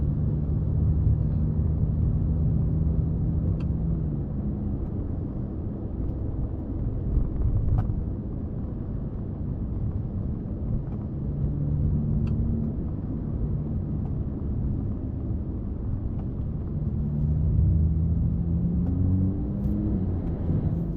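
A Ferrari 296 GTB hybrid supercar on a test drive produces a steady low cabin rumble and road drone, with engine tones rising and falling gently as the throttle is pressed, heard continuously without talk.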